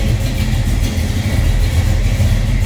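A 1956 Chevrolet Bel Air Nomad engine running at a steady idle, a loud, close, deep rumble with a slightly lumpy rhythm and no talk over it.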